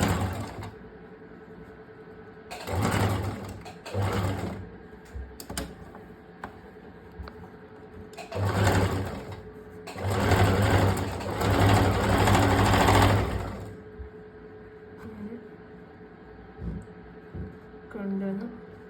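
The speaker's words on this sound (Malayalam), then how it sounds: "ഈ എൻഡിലൂടെ നമ്മളൊന്ന് സ്റ്റിച്ച് ചെയ്ത്" Sewing machine stitching the folded edge of a princess cut blouse, running in several close bursts of rapid mechanical whirring separated by pauses, with a voice talking softly between runs.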